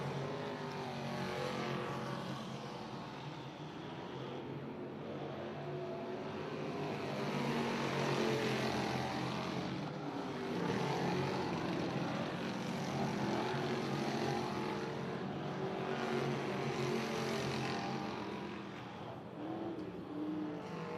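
Short track race cars circle the speedway at All-Tech Raceway, a continuous roar of engines rising and falling as cars pass, steady and fairly loud with no break.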